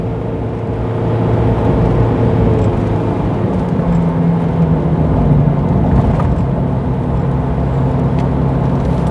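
A Mazda Bongo Friendee van engine drones steadily under load, the revs holding and slowly rising as it labours continuously up a big hill, heard from inside the cab.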